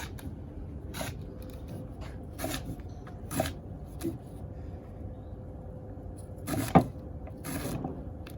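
A knife chops through rhubarb on a board in a few spaced, crisp cuts, with a soft background hum between the strokes.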